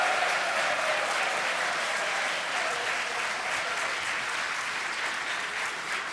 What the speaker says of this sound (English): please applaud now.